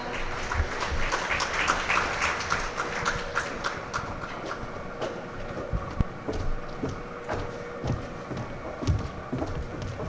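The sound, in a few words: audience applause at a conference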